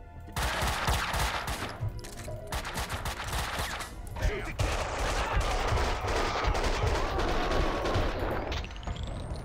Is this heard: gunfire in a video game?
yes